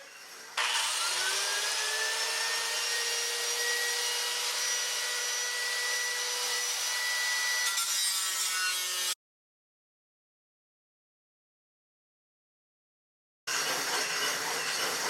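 A metal corner being ground off on a saw repair job makes a loud, steady, high-pitched whine lasting about nine seconds. Silence follows, then the grinding starts again near the end.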